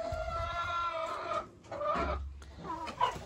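Chickens in a tent coop with a plump young rooster, clucking and crooning nearby in overlapping, drawn-out calls with a few sharper squawks, fairly loud and close.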